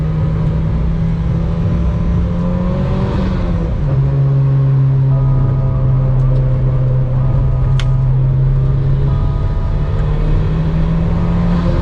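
A 2005 Mitsubishi Evo VIII drives by in a steady, loud engine drone with a brief dip in pitch partway through, with no voices.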